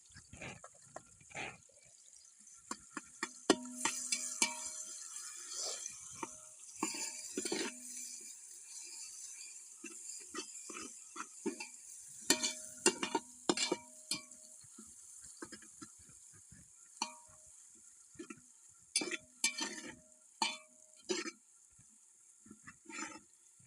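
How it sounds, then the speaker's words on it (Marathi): Onion roasting in a pan with curry leaves for bhogi bhaji, a steady faint sizzle broken by scattered clinks and scrapes of stirring, close and alone without talk. "आणि आता आपण कांदा भाजून घेऊया"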